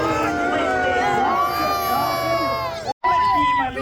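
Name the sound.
crowd cheering at a jousting tournament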